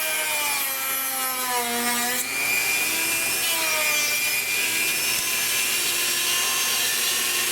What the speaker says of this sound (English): if you take a Dremel and you put the diamond blade in